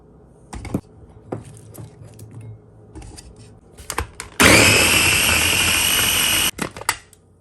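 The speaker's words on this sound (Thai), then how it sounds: "ปูจะไม่ใช้การตำนะ ปูจะใช้เป็นปั่นแทนนะคะ" Electric blender whirring loudly for about two seconds as it purees shallots, garlic and chili for a rhubarb chili paste, preceded by clattering and knocks of ingredients being added to the jar.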